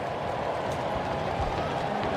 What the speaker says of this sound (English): Players applaud the fans applaud the players.